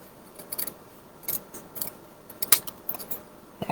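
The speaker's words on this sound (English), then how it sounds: "Instead of trying to use all the fancy tools, just grab your scissors" Scissors snip through paper while a greeting is trimmed for a handmade stocking craft, giving a handful of crisp, separate cuts at an uneven pace, close and clear.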